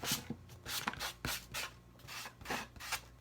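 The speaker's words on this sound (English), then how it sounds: "My sanding block." A sanding block rubs lightly over a craft planter in a series of short, gritty strokes with an uneven rhythm, close and quiet, with no talking.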